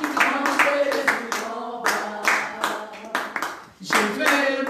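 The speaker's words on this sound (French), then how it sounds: "Je vais vous applaudir. Les gros hommes là derrière, applaudissez-vous." A church congregation claps in bursts during a worship song, sharp hand claps landing in uneven clusters, with singing and voices mixed in around them.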